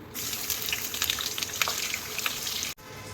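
A steady, close hiss and crackle of chopped onions frying in hot oil with cinnamon, continuous throughout before briefly cutting out near the end.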